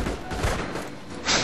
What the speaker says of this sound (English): And a grenade going into the building